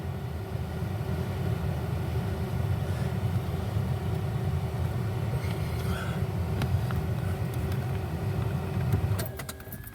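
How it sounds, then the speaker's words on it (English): The front blower motor of a 2001-2007 Toyota Sequoia runs with a continuous steady whooshing hum, close and unchanging for the whole stretch, with a few faint clicks near the end. "The blower's working."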